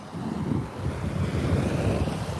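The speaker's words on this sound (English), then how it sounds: "Sit on the beach and listen to the sounds of the ocean while you meditate." Ocean waves washing onto a beach: a steady, near, full roar of surf with some wind rumble, continuous and alone.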